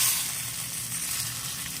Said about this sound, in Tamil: இனி கடுகு, காஞ்ச மிளகா, கருவேப்பிலை போட்டு தாளித்ததை இதில் ஊற்றி வைக்கணும்.